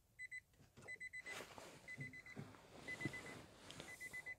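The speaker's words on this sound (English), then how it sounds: "Is it me or does that sound like an alarm clock?" A Nissan Leaf gives its warning chime after being switched off with a door left open: a run of quick, bright electronic beeps in short clustered bursts, close and fairly quiet, a little like an alarm clock.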